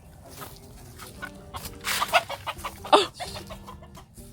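A rooster clucks at a family home in a few short, nasal bursts that grow busier toward the middle, close and fairly loud over quiet background noise, with one brief exclamation from a person.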